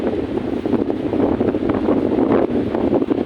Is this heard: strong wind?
yes